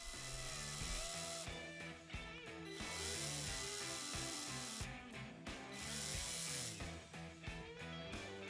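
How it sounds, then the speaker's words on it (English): A cordless drill grinds the heads off the metal posts of a Lesney Matchbox No. 31 Lincoln Continental die-cast model car, a steady close whir with ratcheting, stuttering bites that continue throughout. "Now for the cordless drill, just take the heads off these posts"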